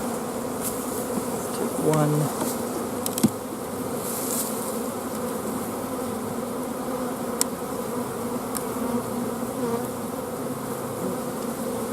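Honey bees hum in a steady, dense buzz during a beehive inspection, with individual bees passing close by now and then; a voice is faintly heard once.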